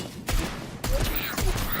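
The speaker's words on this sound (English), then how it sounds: "Goes for the low gunshots." Deadshot fires low gunshots in the Injustice fighting game, three sharp broadband bursts about half a second apart, each trailing off into a dense wash of game sound.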